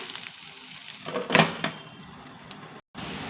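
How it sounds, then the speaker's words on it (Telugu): Onion pieces and green chillies fry in a hot tempering, giving a steady close sizzle with one brief louder burst of stirring partway through. "ఇప్పుడు ఉల్లిపాయ ముక్కలు పచ్చిమిర్చి వేసేద్దాం బాగా వేగిపోతే ఉల్లిపాయ ముక్కలు కూడా కొంచెం పచ్చివాసన పోయే వరకు"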